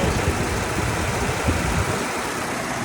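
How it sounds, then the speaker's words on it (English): A 2017 Ford F-150 SuperCrew Lariat pickup with 179,789 miles idles steadily with a low, continuous rumble, partly masked by a loud fan whirring nearby; no voices. "You can hear the engine."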